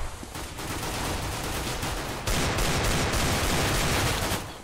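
Desert Eagle pistol shots and other gunfire in Counter-Strike on the de_dust map, dense and loud throughout, with a sharp burst of louder fire about halfway through.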